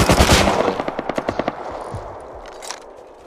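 A loud burst of automatic rifle fire in the survival game Rust, a dozen or so rapid shots in steady rhythm, followed by a fading echo and a faint distant shot.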